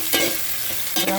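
Sliced onions sizzle steadily in a pan for chicken biryani, with two louder scraping stirs cutting through the continuous close frying hiss, one near the start and one near the end.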